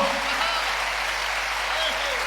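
An audience at a Hindi poetry recital (kavi sammelan) breaks into sustained, dense applause, a steady wash of many hands clapping from a crowd.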